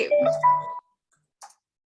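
A phone rings with a short melodic tone sequence lasting under a second, followed by silence and a faint click.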